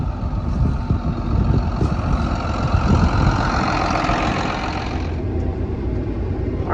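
A John Deere 7820 tractor engine runs with a steady low diesel drone while pulling a 14-foot AMCO drag disc in a field, close and continuous with no talking.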